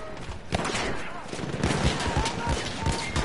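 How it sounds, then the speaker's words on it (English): Machine gun fire in the Battlefield video game, dense repeated bursts of shots running throughout, mixed with other battle noise and a voice talking over it. "Machine gun. Hostile."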